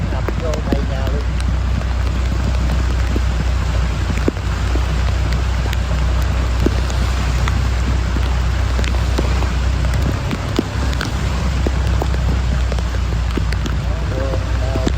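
Heavy rain pours steadily onto flooded streets in Can Tho, Vietnam, a dense continuous roar of drops on water and surfaces with occasional louder splashes, while someone talks over it throughout.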